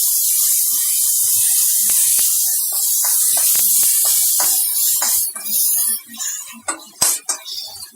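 Ginger garlic paste sizzles in hot oil with frying onions, a steady close hiss broken by sharp metal spoon clinks against the pan that grow sparser and more uneven toward the end.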